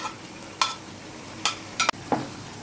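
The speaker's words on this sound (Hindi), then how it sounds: "दही हमने इसके अंदर ऐड कर दी है और अब हम इसे फ्राई कर रहे हैं" Chicken frying in a pan with whisked yogurt, a faint sizzle underneath a few sharp stirring scrapes and clinks of a utensil against the pan spaced irregularly.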